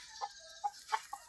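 White Leghorn chickens, young roosters about four months old, giving a few short, separate clucks at moderate distance with quiet gaps between them.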